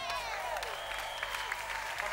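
A church congregation claps together at a healing and deliverance service, a dense broadband wash of hands that holds steady throughout, with voices and a sliding tone mixed in underneath.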